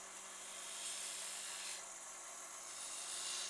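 Small bowl gouge cutting away wood on a lathe while shaping the foot of a gilded sea urchin box, a steady hissing, scraping shear close by with slight swells in loudness and no talk.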